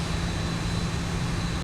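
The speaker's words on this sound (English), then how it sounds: "I'm taxiing the aircraft and his plane in his simulator is actually moving as well." Boeing 737 taxiing in the X-Plane 11 flight simulator, a steady broadband jet engine roar with a low hum, continuous and fairly close before cutting out abruptly at the end.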